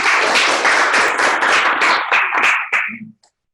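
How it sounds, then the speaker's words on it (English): A crowd claps in a dense burst of applause that thins out to a few last claps before falling silent. "I think we should clap for both of you"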